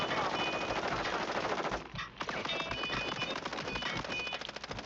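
Sustained automatic gunfire from a Call of Duty Warzone Plunder match rattles on almost continuously, dense and close, with a brief lull partway through before the rapid shooting resumes.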